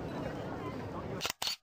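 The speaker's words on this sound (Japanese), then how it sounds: "時に自らの姿を映し込みながらシャッターを切ります" A camera shutter fires twice in quick succession, two crisp mechanical clicks cutting through a murmur of city crowd noise and background chatter.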